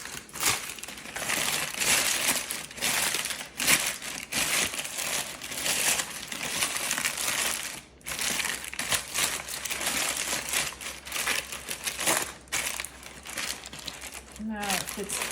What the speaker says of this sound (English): now I take my parchment paper here